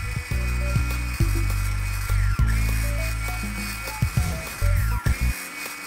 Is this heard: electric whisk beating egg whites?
yes